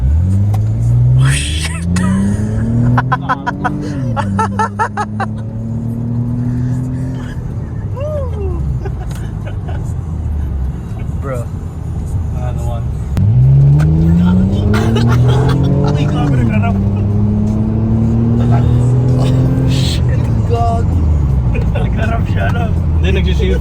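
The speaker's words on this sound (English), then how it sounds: "We're inside the Camry and we're gonna feel 2GR power. the V6 power." A Toyota Camry with a 2GR V6 engine accelerates hard from inside the cabin, rising through gears with a loud climbing engine note, a shift dip and a second surge, while occupants exclaim over it.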